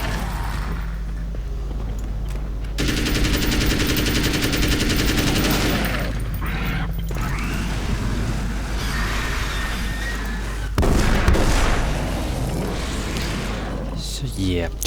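Loud bursts of gunfire from the video game Alan Wake's American Nightmare rattle over a steady background rumble, with a voice talking throughout.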